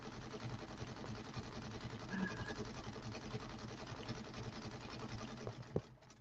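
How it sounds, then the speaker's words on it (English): An embroidery machine stitches out a logo on a project bag with a steady, fast mechanical whir and needle chatter that runs continuously and close by, with a small clunk near the end. "this will be where it's stitching out the logo"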